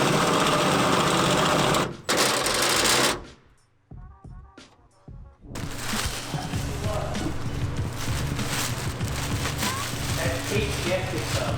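Drilling to enlarge a bolt hole in a Subaru STI body panel during an OEM wing install: loud, steady whirring grind, briefly stopping with a few sharp clicks, then resuming continuously.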